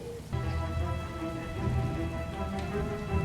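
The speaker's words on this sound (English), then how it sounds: "In this rain too." Steady rain in the hidden-object video game Lost Lands 11 hisses evenly and close, with a faint tonal game background underneath and no talk.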